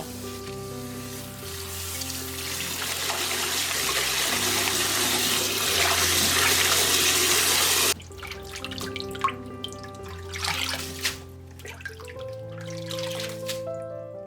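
Cold tap water runs in a steady, strong stream over blanched dandelion greens for about eight seconds, then cuts off into scattered splashes and drips as the greens are handled, with soft music underneath.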